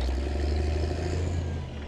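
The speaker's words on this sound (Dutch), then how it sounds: "Dat is mijn motor maar." An animated digger's engine from a Bob the Builder cartoon rumbles steadily at low pitch, a close, even chug that eases slightly toward the end, with no talking.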